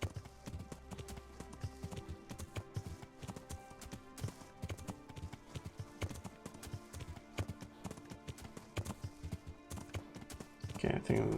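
Horse hooves clip-clop steadily in the Kingdom Come Deliverance video game, a continuous quick rhythmic trot heard faintly with a player talking over it at times.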